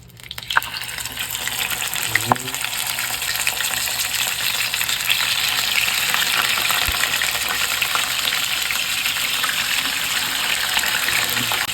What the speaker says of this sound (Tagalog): mainit na nga yung ating mantika. Lalagay na natin tong isda.